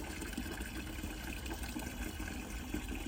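Water flows steadily from a Rainpoint Smart+ garden watering system, a continuous hissing, splashing rush heard close up with no talking.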